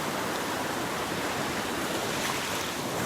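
Ocean surf at Pawleys Island washes in a continuous broadband roar, loud and close, with no distinct breaks or other sounds.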